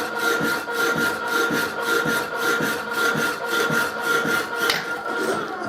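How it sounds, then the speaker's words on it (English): Metal tube being cut for a workbench leg with a steady, rhythmic rasping saw, regular strokes roughly every half second, close and continuous. "Just cutting a piece of tube to weld to the angle iron at the bottom of the bench"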